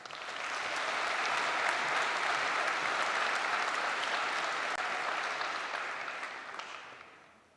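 An audience at a university December commencement claps steadily for graduating Environmental Science seniors, a dense, even applause that swells and then tapers off over several seconds.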